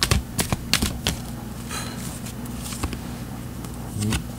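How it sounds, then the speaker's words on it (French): Tarot cards being shuffled by hand, soft irregular clicks and light patter close up, with a few sharper card snaps over a quiet background. "Je continue de brasser les cartes un petit peu."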